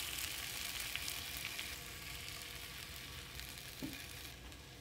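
Sausages frying in a pan for a full English breakfast, a steady close sizzle and crackle holding even throughout, with one small clatter near the end.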